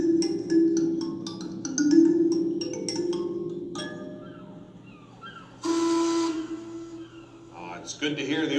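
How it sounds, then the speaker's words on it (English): A steam whistle at the old Britannia mine blows in long, sustained tones, fading and returning loudly partway through, with voices and brief outdoor sounds around it. "It's good to hear the old mine whistle blow again"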